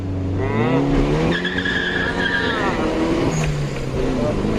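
A 1990s Nissan 200SX engine with a blow-off valve revs up and down, its pitch sweeping and climbing, loud and close, with a voice talking over it.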